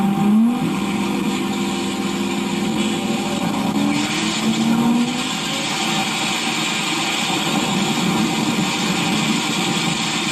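A race car accelerates hard and loud, its engine revving with a rising pitch sweep partway through, a steady roaring drone filling the whole stretch with no talk.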